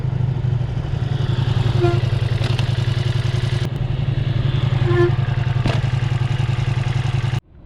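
A Ducati Multistrada V4S motorcycle engine running with a steady, loud, throbbing rumble, close by and unbroken until it cuts off near the end, with faint clatter over the drone.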